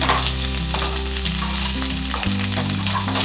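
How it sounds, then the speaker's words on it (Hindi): Continuous loud sizzle of boiled potatoes frying in a pan with ghee and green chili, with light stirring scrapes and a steady background hum. "इनको हम थोड़ा सा फ्राई करेंगे।"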